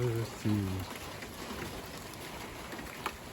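Steady rain hissing outdoors during a December 2024 windstorm as the wind calms, with a brief voice at the start and an occasional louder drop or knock.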